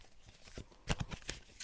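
Soft crisp riffling and snapping of playing cards being shuffled, a few quick bursts close by and quiet, with no talking.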